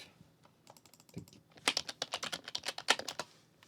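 Keys clack on a computer keyboard, a few scattered taps at first and then a quick, steady burst of close, crisp keystrokes.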